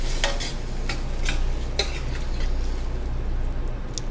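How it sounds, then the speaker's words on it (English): Bopis with coconut milk stirred in a sizzling pan: a steady close sizzle runs throughout, with a few scraping strokes of a utensil against the pan, and no voices. "I'm gonna give this a quick stir,"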